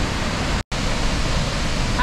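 A waterfall of white foaming water pours over basalt columns in Iceland, a loud, steady broadband roar that cuts out for an instant before resuming.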